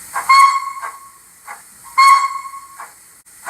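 A Zimo sound decoder fitted in a Dapol Hawthorn Leslie 0-4-0ST model steam locomotive sounds its toot whistle. Two short, loud, clear toots ring out, each followed by a softer puff of hiss.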